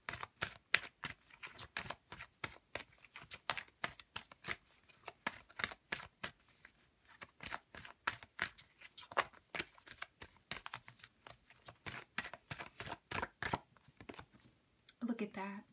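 Oracle cards are shuffled in quick, crisp riffling bursts, a rapid run of soft slaps and flutters close by, ending with a brief low thump.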